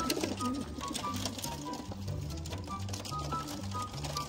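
Racing pigeons coo nearby in low, repeated throaty calls that rise and fall steadily over faint background noise.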